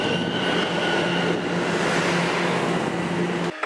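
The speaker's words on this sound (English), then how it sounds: "now I'm going into the subway" Loud, steady rumble of a subway train ride, with a droning hum and wheel noise running throughout before cutting off abruptly near the end; no talking.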